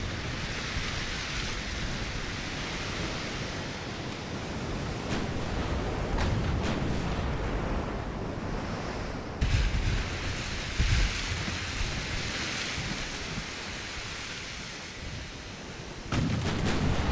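Warship guns firing in the naval battle game Ultimate Admiral: Dreadnoughts, heard as heavy booms over a constant wash of sea and rain-like noise, with a few sharper reports standing out.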